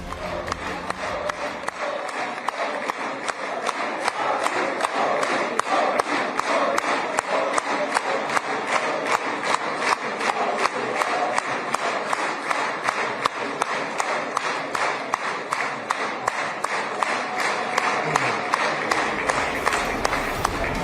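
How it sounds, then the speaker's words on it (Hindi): A crowd in the Israeli parliament chants "Modi, Modi" in a steady rhythmic pulse, with loud repeated beats and claps kept up without a break for about twenty seconds. "इजराइल की संसद में मोदी मोदी की गूंज।"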